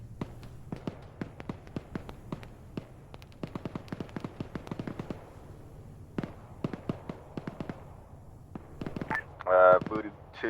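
Helicopter rocket pods fire in ArmA 3, a rapid string of sharp, punchy launches in bursts across the scene, with brief pauses between volleys and a louder whooshing swell near the end over a low engine drone.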